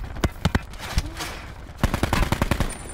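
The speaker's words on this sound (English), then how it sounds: "I lasered him with that machine gun thing" Rapid bursts of automatic machine gun fire in Black Ops 4 Blackout, a battle royale shooter, come as two volleys of sharp, loud repeated shots separated by a short pause, with faint voices in the background.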